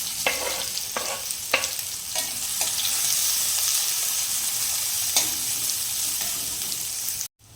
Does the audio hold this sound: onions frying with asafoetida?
yes